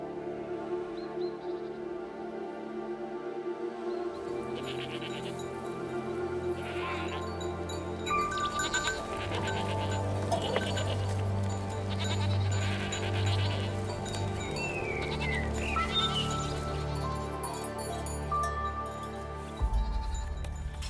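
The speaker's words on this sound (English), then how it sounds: "tagged a number of goats and sheep that live on the volcano's slopes" Goats and sheep on the slopes of Mount Etna bleat now and then, fairly faint and distant against a soft outdoor background.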